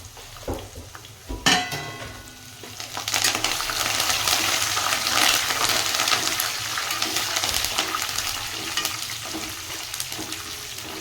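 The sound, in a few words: curry leaves added to hot oil, sizzling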